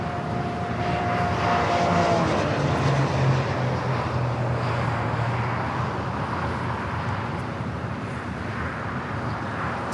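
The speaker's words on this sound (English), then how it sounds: "Spirit flight rolling down the 25 right" A Spirit Airlines jet takes off on runway 25 right at Los Angeles International Airport, a loud, sustained engine roar and rushing whine that holds steady throughout, with no voices.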